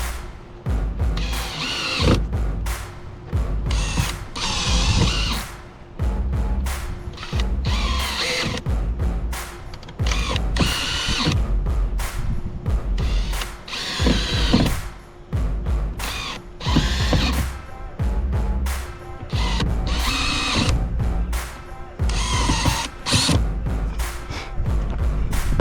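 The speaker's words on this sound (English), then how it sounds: "keep the tension off the drill, don't put a lot of pressure." A power drill tightens kayak rails onto a Mako skiff, sounding as a steady run of short, sharp mechanical whirring and clicking bursts, loud and close, with no talking.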